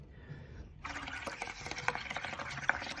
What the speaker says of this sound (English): We're only supposed to be blowing and making bubbles. So I'm going to blow inside.